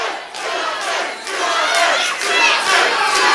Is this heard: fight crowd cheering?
yes